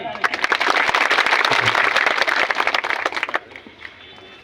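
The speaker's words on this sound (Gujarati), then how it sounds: "જોરદાર તાળી." An audience at an outdoor Aam Aadmi Party political rally bursts into dense, loud applause with many hands clapping together. The clapping is steady and close for about three seconds, then thins into scattered claps as it fades.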